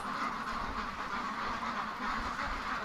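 About a hundred ducks packed in a shed, quacking continuously in a dense, overlapping chorus close by, with no one talking.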